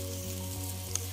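Tuna flakes and marrow vegetable sizzle and fry steadily in hot oil, with a soft scrape of stirring and one brief sharp click near the end.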